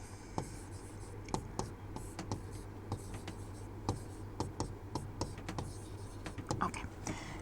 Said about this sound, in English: Now I want to write another example.